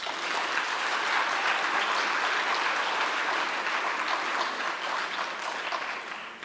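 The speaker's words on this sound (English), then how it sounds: "Please give her a round of applause." An audience at a classical Indian dance arangetram breaks into sustained, dense applause that holds steady for several seconds before easing off slightly at the end.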